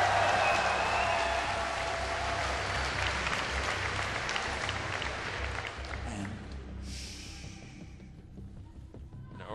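A large crowd applauds and cheers steadily at an esports StarCraft 2 grand final, a dense wash of clapping that gradually fades over several seconds.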